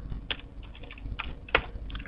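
Quick, light key clicks on a computer keyboard as a command is typed into the Minecraft Single Player Commands mod, a handful of close taps in an uneven rhythm over faint room noise.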